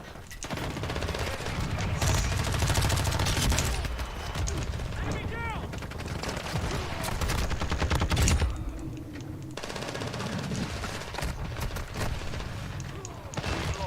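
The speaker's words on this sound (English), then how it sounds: "I'm literally shooting 8 bullets in his head." Sustained machine-gun fire from the shooter game Warzone 2 hammers away in long loud bursts, easing off briefly near the end, while someone talks throughout.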